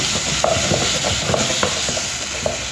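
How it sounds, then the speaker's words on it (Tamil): Ginger garlic paste sautéing in a pan for dal fry, a dense close sizzle with quick scraping strokes of a spoon and small crackles, loud and continuous without talk. "இஞ்சி பூண்டு பேஸ்ட்டு இஞ்சி பூண்டு போட்டு நல்லா வதக்கணும்"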